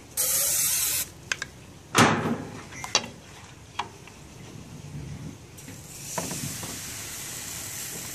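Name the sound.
cooking oil spray on pan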